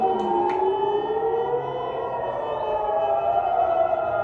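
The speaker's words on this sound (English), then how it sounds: "Air raid sirens going off right now." Air raid sirens wailing across Jerusalem, a steady rising-and-falling civil defense tone heard from a distance, loud and continuous with no talk.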